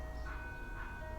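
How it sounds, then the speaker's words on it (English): A distant ice cream truck jingle plays faintly, a thin repeating electronic melody drifting over low background hum. "the ice cream truck just arrived, making the most obnoxious noise in the world"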